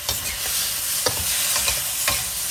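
Liver stir-fried in a pan for holy basil stir-fry, loud steady sizzling close up with a few distinct spatula knocks and scrapes at roughly regular intervals.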